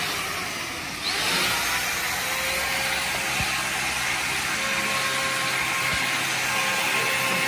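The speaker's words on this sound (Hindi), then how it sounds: "पेंट का पॉलिश का प्रोसेस शुरू हो गया है" Steady whirring machine polisher buffing the paint on a Yamaha R15 V3 motorcycle during servicing, loud and continuous throughout with a brief dip at the start.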